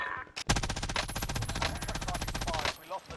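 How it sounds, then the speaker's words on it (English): Rapid sustained automatic gunfire from a sentry gun in the video game Warzone, a dense, loud burst of shots lasting a few seconds after a sharp initial crack. "He's still shooting at me."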